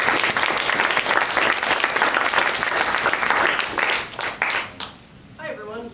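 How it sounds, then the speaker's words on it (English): A meeting audience breaks into warm applause for a speaker, a full, close burst of clapping that thins out and stops near the end, followed by a brief voice. "let's give her a warm round of applause"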